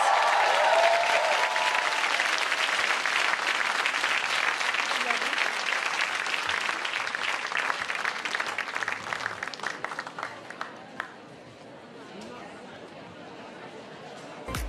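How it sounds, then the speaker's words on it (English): A conference audience gives a loud round of applause for the speakers, dense clapping that runs strongly for about ten seconds before thinning into scattered claps and murmuring chatter. "a wonderful, loud round of applause for all our wonderful speakers"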